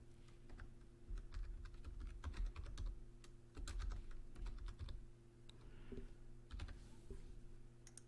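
Rapid typing on a computer keyboard while a zip code is entered, with irregular bursts of clicking keystrokes close to the microphone and short pauses between runs over a steady low background hum.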